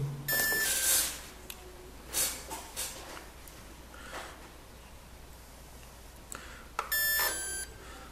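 A Devo 10 radio transmitter running on a LiPo battery gives a bright electronic beep at power-on, followed by soft handling clicks and another beep near the end, close and clear with no talking.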